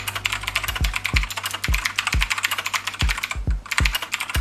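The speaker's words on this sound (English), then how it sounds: "I honestly just really like really clicky mechanical keyboards" Fingers type on a clicky mechanical keyboard, crisp key clacks in quick irregular bursts with sharp thuds as keys bottom out, close and alone.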